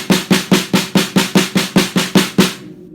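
Fast snare drum strokes in an even, rapid pulse, about four hits per second, crisp and close, ending abruptly.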